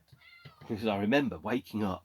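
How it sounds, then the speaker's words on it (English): A cat meows insistently to be let in, several drawn-out, rising and falling cries close by, mixed in with a person talking over them. "oh, that's a cat. Hang on a second, I'll let him in."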